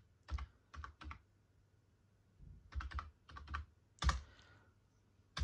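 A computer keyboard is typed on to enter a BIOS password on a Dell mini PC, with quiet, close keystrokes in short clustered bursts separated by pauses.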